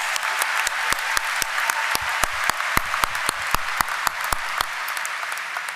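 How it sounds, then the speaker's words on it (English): A commencement crowd gives a round of applause for the platform guests, a dense, sustained wash of many hands clapping with sharp individual claps standing out, steady for several seconds. "Let's give a round of applause for our platform guests."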